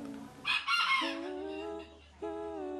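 A bantam rooster crows close by, its call rising in a loud burst and then stretching into long held notes, with a second crow starting near the end; no talking.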